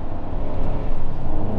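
Engine of a 2022 Hyundai Santa Cruz pickup running at steady, fairly high revs, a loud continuous close rumble and drone with no talk.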